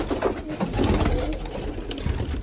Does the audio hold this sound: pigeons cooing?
yes